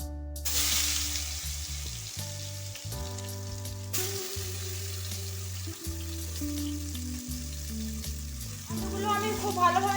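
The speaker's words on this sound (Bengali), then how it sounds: "পটল ভাজার তেলে আমি আলুগুলো ভেজে নেব" Potatoes fry in oil left over from frying pointed gourd, giving a loud, steady sizzle with occasional stirring scrapes. Music plays underneath.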